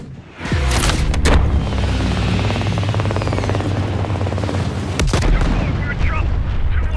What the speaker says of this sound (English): Taking heavy fire, waving off!